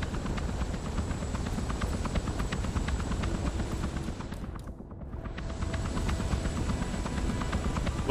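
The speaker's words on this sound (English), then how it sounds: "I feel like the helicopter is gonna mask the sound" A video game helicopter's rotor chops continuously and loudly close by, its steady throb briefly dipping before returning at full strength.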